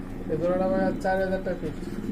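Pigeons cooing in a pigeon market, a female on the right and another calling on the left; repeated low throaty coos in three swelling bursts, close by.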